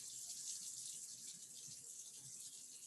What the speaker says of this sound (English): So I'm going to run some tap water, let it get hot